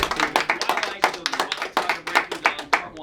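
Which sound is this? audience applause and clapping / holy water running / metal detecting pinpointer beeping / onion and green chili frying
audience applause and clapping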